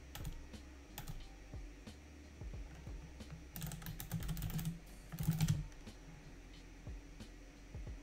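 Rapid typing on a computer keyboard at a desk, close keystrokes in uneven bursts with a busier flurry partway through, no speech.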